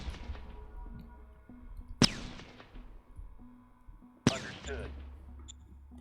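Artillery pieces fire in the strategy game Shadow Empire, two sharp booming shots a couple of seconds apart, each decaying into a rumbling tail over a quiet background.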